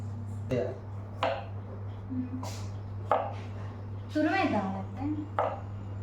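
Vegetables being chopped into small pieces on a board, several distinct knife thuds at irregular intervals, close by, with a low steady hum and some people talking in the background.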